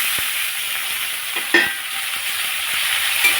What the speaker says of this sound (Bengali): সেটা এখন আলুটা দিয়ে দিলেও হয়, তো আলুটা দিয়ে দিলাম।